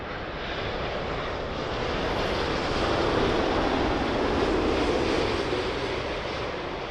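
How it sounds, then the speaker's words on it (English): A United Boeing 787-9 Dreamliner in from Denver, landing on runway 27L at London Heathrow, makes a steady broadband jet roar that swells slightly partway through and holds, with no talk over it. "So that was United Dreamliner in from Denver, 787-9."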